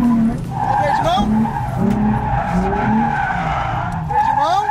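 Tires of a Nissan 350Z squeal and skid repeatedly during handbrake drifts, a loud wavering screech over engine roar, with people talking excitedly inside the car.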